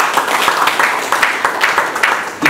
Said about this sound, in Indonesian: Mari kita tepuk tangan untuk Pak Kadis.